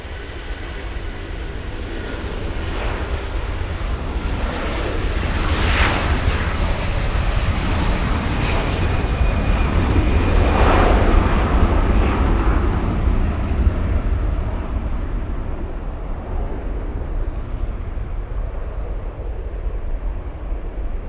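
A Delta heavy jet at LAX roars down the runway on takeoff, a broad steady rumble that swells to a peak midway and then holds loud and sustained, with no talk over it.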